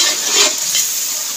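A tomato tadka fries in a pot while being stirred, giving a close, loud, continuous sizzle with scraping stirs and no talking.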